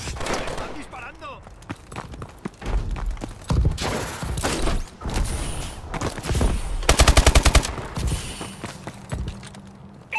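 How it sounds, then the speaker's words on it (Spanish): Rapid automatic gunfire bursts crackle loudly and repeatedly in the Call of Duty: Advanced Warfare video game, mixed with footsteps, other game effects and intermittent voices. "¡Están disparando!"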